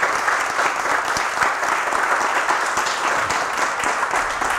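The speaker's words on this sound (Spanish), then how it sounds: "Fuerte el aplauso también para la producción, por favor." Dense, steady applause from an audience at an event in Yad Labanim, honoring a rabbi, runs loud and continuous throughout with no talking.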